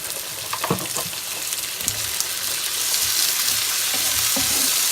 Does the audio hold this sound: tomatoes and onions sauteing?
yes